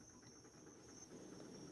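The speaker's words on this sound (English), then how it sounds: "can you guys hear the crickets in the background?" Crickets chirp at night in a steady, faint, continuous high-pitched trill that sits quietly in the background with no talking.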